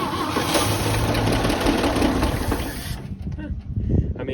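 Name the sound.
1961 K10 235 engine starting after ten years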